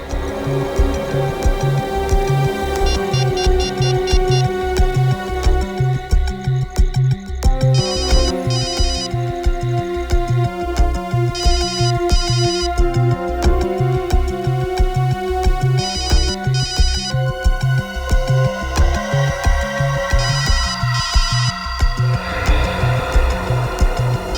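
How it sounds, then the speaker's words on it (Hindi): A loud electronic ringtone repeats its melodic pattern over and over with a pulsing beat, continuing steadily without any talking. "पूर्वी का फोन?"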